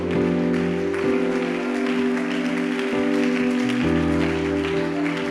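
Church congregation clapping in praise alongside steady, sustained musical tones, the applause forming a dense continuous wash throughout.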